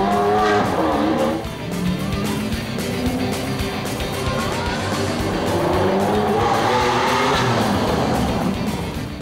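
Ferrari sports car tuned by Mansory driving through a small town, a loud, close engine roar that rises and falls with gear changes throughout, with no talk over it.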